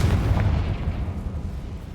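Confringo fire spell explosion in the video game Hogwarts Legacy: a loud, deep booming blast at the start that fades into a rumbling decay over about two seconds.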